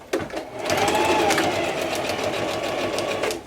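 A sewing machine stitches fabric for a bow, giving a steady close whirring run that starts abruptly and continues almost unbroken to the end.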